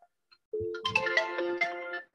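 A phone ringtone plays a bright melodic electronic tune loud and close for about a second and a half, with no talk over it.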